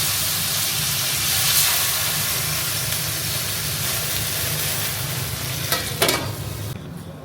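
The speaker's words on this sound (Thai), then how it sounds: "เดี๋ยวเราจะเอาไปจี่ในกระทะเพื่อทำซอส" Halved giant shrimp searing in a hot frying pan as the start of a tomato sauce for pasta, giving a steady close sizzle and hiss throughout, with a brief scrape of stirring near the end.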